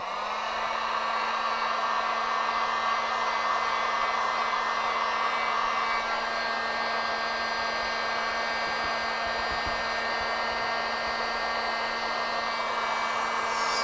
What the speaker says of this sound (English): we're going to go ahead and hit it with a little bit of heat